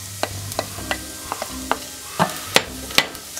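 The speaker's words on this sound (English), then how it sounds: "I'm going to stir this around and cook this for about 30 seconds." Garlic, dried basil and oregano cook in a pan for Italian sausages in sauce, with a soft sizzle under a series of close, distinct spoon scrapes and taps at an uneven pace.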